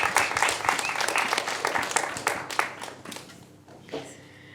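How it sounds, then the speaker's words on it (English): An audience applauds Marlou Fernanda at the opening of a gathering, with crisp, close claps that start dense and then thin out and fade, with a few scattered last claps near the end. "a round of applause for Marlou Fernanda"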